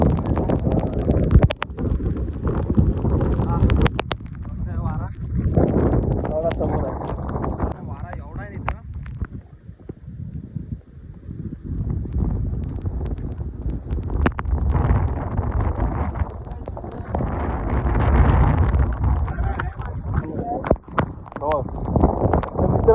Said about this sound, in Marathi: वारा पण खूप आहे